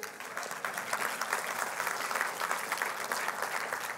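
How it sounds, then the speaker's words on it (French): Audience applause in a church, an even, continuous patter of many hands clapping at moderate distance, fairly soft and unbroken, with a faint hint of voices underneath. "Oui, on peut applaudir."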